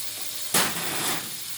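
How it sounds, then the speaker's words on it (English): Butter and oil hiss loudly in a hot frying pan, a sudden burst of crackling sizzle that keeps up as a dense steady fizz, close and alone. "Sizzling away and without even waiting for the butter to melt."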